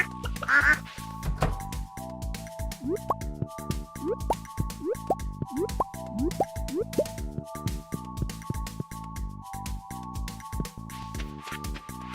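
Repeated duck quacks from the Stardew Valley farm game, a steady run of short calls over about twelve seconds, mixed with plopping, dripping game sound effects and soft background music.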